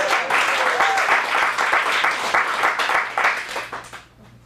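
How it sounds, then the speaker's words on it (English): An audience at an adult acting showcase applauds steadily with dense, close clapping for several seconds, then fades quickly into quiet. "Let's give a round of applause"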